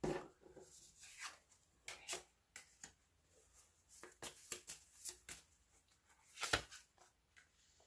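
Playing cards being shuffled ahead of a tarot-style fortune reading, heard as quiet, close, irregular riffles and soft hand rubbing in short bursts with pauses between, no one talking.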